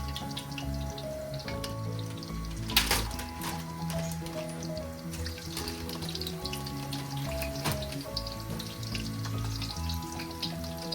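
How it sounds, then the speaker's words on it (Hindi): Rolls and box samosas fry in hot oil for an iftar meal, giving a continuous close sizzle with a few clinks and stirring knocks. "रोल बना के रखे हुए थे, ये सब आज हम फ्राई करेंगे"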